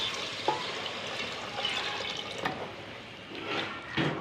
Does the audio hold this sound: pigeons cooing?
no